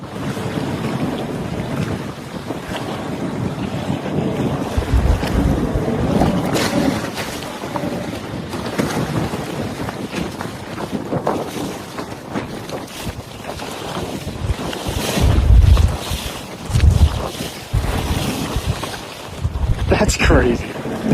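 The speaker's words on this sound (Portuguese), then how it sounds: "Esse iate de última geração começou a afundar rapidamente após ter sua estrutura comprometida na água." Strong wind buffeting and water churning around passing jet skis as a luxury yacht sinks at sea, with gusty low rumbles and splashes throughout and people talking over the noise.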